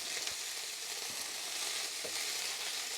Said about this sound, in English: The black pepper's toasting and the bay leaves are coating up nicely